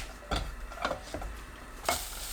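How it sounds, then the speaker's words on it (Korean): Dried squid strips being stirred into a simmering sweet seasoning sauce in a pan over low heat: scattered scraping and clicking strokes from the utensil over a faint, steady bubbling sizzle, with no talking. "양념이 끓으면 약불로 낮추고 진미채 넣습니다. 골고루 섞어주세요."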